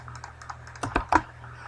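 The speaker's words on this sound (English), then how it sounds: "I am rapid clicking like crazy." Rapid mouse and keyboard clicking at a computer during a Minecraft SkyWars minigame, a quick run of light taps building to a few louder clustered clicks, close and alone without talk.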